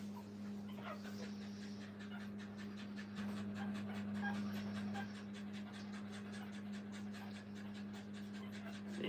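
Newborn puppies, still blind and deaf, feed from their mother dog at a kennel, making soft rhythmic squeaks, grunts and panting-like suckling noises close up over a steady low hum.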